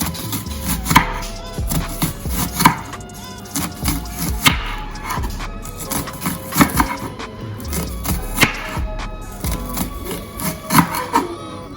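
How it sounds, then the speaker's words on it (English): A knife chops vegetables and seasoning for a Jamaican saltfish meal on a cutting board, giving a rapid, uneven run of close, sharp knocks that continue throughout with no talk. "So I just cut up my vegetables and the seasoning."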